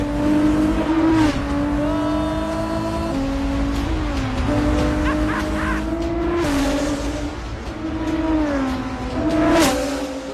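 A Porsche 917 race car roars loudly throughout as it is driven, its engine note climbing and dropping with the gear changes, heard up close from inside the cockpit with no talking.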